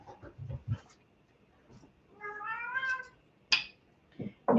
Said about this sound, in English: A little cat fight going on in the staircase.